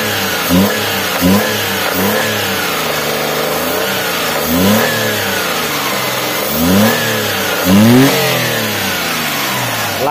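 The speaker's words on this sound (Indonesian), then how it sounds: "Ini kita boleh blayer." A Toyota Xenia with a 1.0-litre engine is revved repeatedly from idle, several sharp throttle blips rising and falling in pitch over a steady idle hum, close and loud with no talking.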